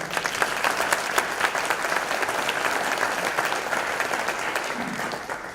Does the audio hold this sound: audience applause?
yes